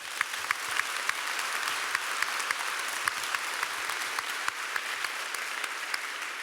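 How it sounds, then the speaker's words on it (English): Steady audience applause at a literary event, a dense wash of clapping at moderate distance with a few sharper individual claps standing out throughout. "Next, and you can applaud him too, is Douglas Stuart."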